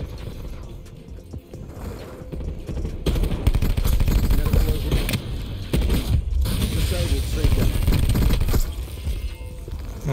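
Gunfire in Call of Duty Black Ops 4 multiplayer: dense rattling bursts of automatic weapons and mechanical clatter, loud and continuous for most of the stretch, with game effects layered over a low rumble.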